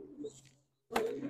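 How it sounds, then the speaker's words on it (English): Racing pigeon, a prize-winning hen in a loft, giving soft close coos in two short bursts separated by a brief pause. "She is teacher Celia, this bird right here."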